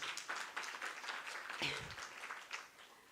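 Audience applause at an International Women's Day round table, a modest spatter of clapping from a small group, faint and fairly distant, with a murmur of voices.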